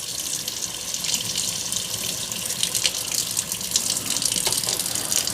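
Water from a tap runs steadily over a detachable robot vacuum part (Eufy S1 Omni Pro) during rinsing, a continuous close splashing gush with no talk.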